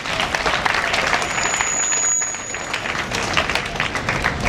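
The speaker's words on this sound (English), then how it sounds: "Let's clap for these two ladies again." Steady applause from an audience, a dense wash of many hands clapping that continues without a break throughout.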